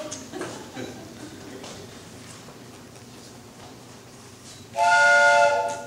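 A train whistle sound effect in a high-school stage production of The Music Man blasts loud and sustained near the end, after a quiet stretch of stage ambience.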